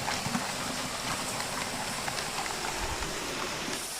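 The first rain of the season falls in a dense, continuous hiss with scattered drops pattering nearby, with no talking.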